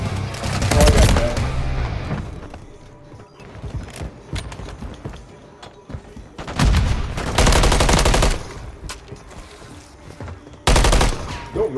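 Bursts of rapid automatic gunfire from a multiplayer shooting video game, loud and dense around the start, middle and end, with quieter scattered shots in between.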